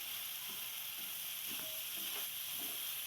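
Dal kanda, a spicy lentil-and-onion dish, being mixed with a spoon in a hot pan: a steady sizzle and hiss with soft, irregular scraping and stirring strokes, close and fairly quiet.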